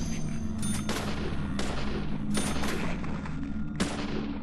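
Gunshots ring out in the video game Deadly Premonition: The Director's Cut. Four sharp, separated shots each trail off in a short decay over a steady low background hum.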